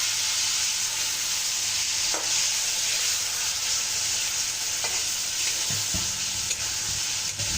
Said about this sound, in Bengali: মশলাটা খুব ভালো করে কষিয়ে নেবেন